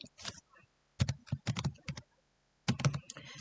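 Computer keyboard keys clicking in short bursts while filling in an Excel spreadsheet, including a Tab press; close, crisp taps in three clusters separated by brief pauses.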